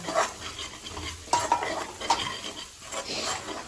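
Masala frying in hot oil in a kadai for kadai paneer, stirred with a metal spoon: a close, steady sizzle broken by scraping clinks of utensil against the pan.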